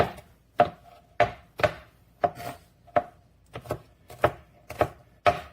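A knife mincing a head of garlic on a cutting board, about a dozen crisp, evenly spaced chops ringing out close and loud, with quiet between strokes and no talking.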